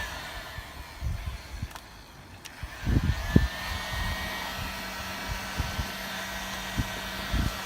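Heat gun warming the painted edge of a car fender during arch rolling, a steady close blowing hiss running throughout, with a few dull knocks and handling bumps partway through.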